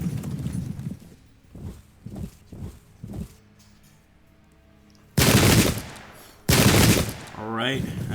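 Volleys of gunfire in a Pike and Shot battle game, two loud broadband bursts of musket fire late in the clip after softer distant shots and rumbling, with a brief voice at the end.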